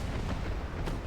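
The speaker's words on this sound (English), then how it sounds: "There's a nice big hit. Probably came from a 13-inch gun there." Shell impact from a 13-inch naval gun in the naval warfare game Ultimate Admiral Dreadnoughts, a heavy booming explosion with dense low rumble sustained across the moment, loud and without speech.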